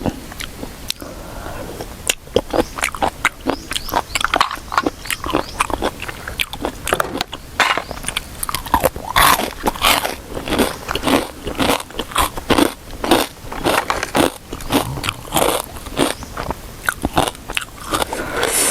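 Loud, crisp crunching and chewing of snails right at the mouth, repeated bites with crackly snaps and soft whispery sounds between them.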